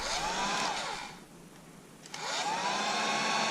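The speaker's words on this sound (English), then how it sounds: "I got my little Wagner heat gun. I'm going to put it on." A Wagner heat gun used for an RV water system repair blows with a loud, steady roar, dips quieter for about a second in the middle, then surges back to full strength.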